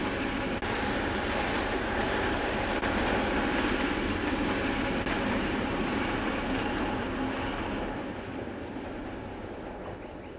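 Class 754 diesel locomotive 754-040 arriving from the east with a short parcel train, a steady rumble of engine and rolling wagons with faint wheel clatter, fading slightly toward the end.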